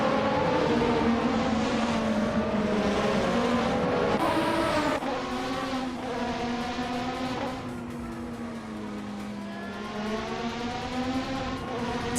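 Ferrari F1 race cars, including a Ferrari F1 8888, scream past in a racing video game, their high-revving engines rising and falling in pitch as they shift gears, with brief tire squeal.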